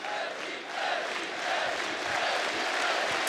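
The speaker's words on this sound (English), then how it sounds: "Crowd is getting pumped." An esports crowd at the CS GO IEM Katowice 2016 Grand Final arena roars and cheers in a sustained, distant, building wash of voices.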